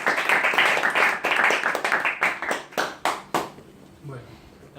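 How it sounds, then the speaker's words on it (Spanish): An audience applauds a newly welcomed speaker at a summer course session, a dense burst of clapping that thins into scattered claps and fades, with a voice faintly underneath near the end. "un aplauso para él."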